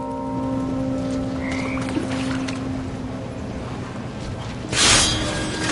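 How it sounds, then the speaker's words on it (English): Toads croak in What Remains of Edith Finch, with tonal calls over a damp, watery ambience and a brief louder splash-like burst near the end. "And toads"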